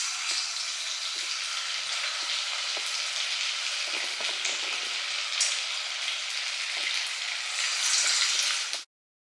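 Crispy corn vadas frying in oil over a medium flame, a continuous dense crackling sizzle with small pops, close and even throughout before cutting off abruptly at the end, with no talk.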